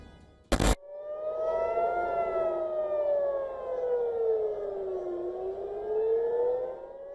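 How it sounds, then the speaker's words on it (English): Civil defense sirens wailing over a city, one long rising and falling tone sweeping slowly up and down for several seconds, loud and sustained, preceded by a brief sharp burst near the start. "Sirens wail over Tel Aviv and Tehran"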